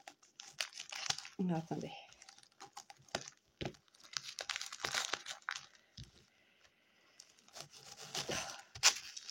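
Package of Studio Light stamps being unwrapped, close crinkling and tearing of plastic in bursts, with someone speaking French in between.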